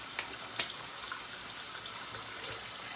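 Tap water running steadily into a sink while lather is rinsed off a face after shaving, a soft close wash of splashing with a couple of small clicks, no talk.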